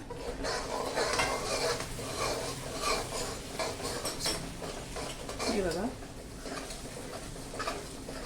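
Bay leaf, cardamom, cloves, cumin, asafoetida and turmeric sautéing in a pan for restaurant-style mixed vegetables, a continuous sizzle with steady scraping and clinking of a stirring spoon, close, while a voice talks over it.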